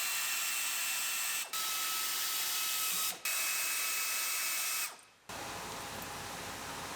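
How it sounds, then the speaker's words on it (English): An air ratchet works on spark plugs of a 2007 GMC Sierra, giving a loud continuous whirring buzz that stops briefly twice, then drops off and resumes at a lower, steadier hum. "gonna use an air ratchet just to annoy the people that don't like using air ratchet on spark plugs"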